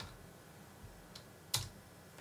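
Light keystrokes on a computer keyboard as a command is entered in a Linux terminal: a few soft, scattered taps and then one sharper, louder click, all close and quiet with no talk.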